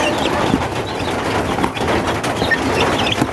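A sick young chick kept under a warming light peeps and chirps nearby, small irregular calls over a busy background of other bird sounds and faint cooing.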